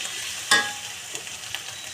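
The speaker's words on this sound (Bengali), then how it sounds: "এই মশলাগুলো ভালো মতো ভেজে নিচ্ছি।" Ginger and garlic paste frying in a pan, giving a steady soft sizzle with a quick scrape or stir near the start and a few faint crackles after it.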